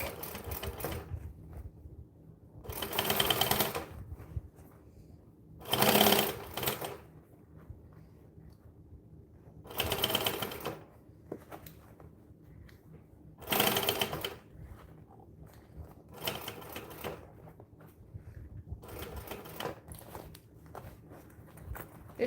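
A sewing machine pushes through a thick interfaced bag in about seven short, loud bursts separated by quiet pauses, with faint rustling between them.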